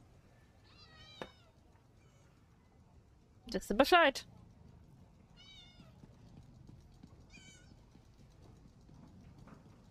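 Short, scattered cat meows from Elder Scrolls Online, one louder drawn-out cry in the middle among fainter calls, with someone talking quietly between them.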